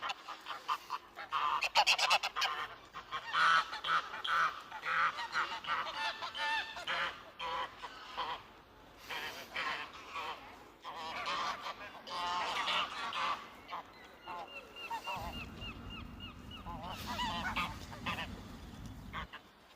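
Geese honk repeatedly beside the fast-flowing River Thames at Abingdon, their calls overlapping in a busy, fairly close chorus that continues throughout, with a low outdoor rumble joining in the last few seconds.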